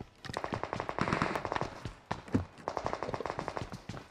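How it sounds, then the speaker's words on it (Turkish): PUBG Mobile gunfire bursts as rapid machine-gun volleys, a long run of sharp shots, a short pause, then another fast burst, heard clearly without talk. "Uzaktan mı sıkıyorlar bana?"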